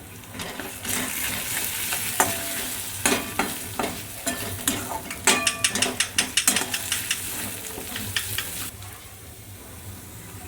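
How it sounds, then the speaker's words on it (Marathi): Turmeric, garam masala, Khandeshi masala and cumin sizzle in a hot pan while a spoon stirs them, giving a steady frying hiss broken by a run of close, rhythmic scraping strokes. "हळद, गरम मसाला, आमचा खानदेशी मसाला आणि थोडा जिरा हे टाकूया त्यामध्ये. हे चांगलं मिक्स करून घेऊया."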